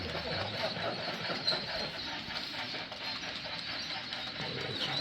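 An HO scale model Norfolk and Western coal train rolls steadily along a layout, a continuous soft rattling and clicking of wheels on track with no talk.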